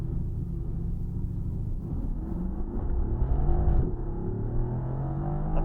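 Mercedes-AMG GT R Pro engine and exhaust at the Nurburgring, a loud steady low rumble from inside the car with a building surge of revs midway, no talk.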